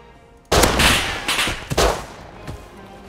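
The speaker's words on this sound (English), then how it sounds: "There's just gunfire everywhere." Loud bursts of gunfire in the video game Rust crack out in rapid clusters, a heavy volley followed by several shorter shots and a faint final pop.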